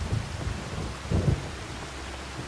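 Steady rain in Farming Simulator 25 hisses continuously, with low rumbling thuds rising briefly in the middle, like distant thunder.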